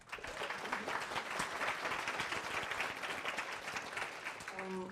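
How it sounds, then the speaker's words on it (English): Steady applause from a conference audience, a dense continuous wash of clapping that holds at an even level for the full stretch, with a faint tonal hum near the end. "Let's give her a round of applause."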